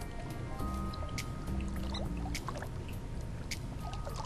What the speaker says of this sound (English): Deploying water bomb